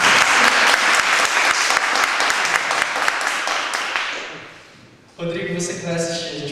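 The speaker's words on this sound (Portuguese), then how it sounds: "Palma, gente, palma!" An audience applauds loudly with dense, sustained clapping that gradually fades, then a voice begins speaking over a quieter background.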